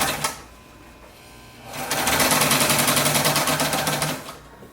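A sewing machine runs in a steady, fast mechanical chatter for about two and a half seconds after a brief start and quieter pause, loud and close, with no talking over it.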